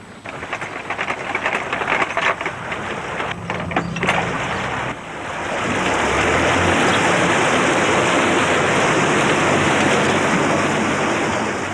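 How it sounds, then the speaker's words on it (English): Water rushing through a canal lock as the paddles are wound open, starting as uneven turbulent splashing, then building into a loud, steady roar that fills the rest of the clip. "wind up the paddles to equalise the water levels, and the canal itself does the rest"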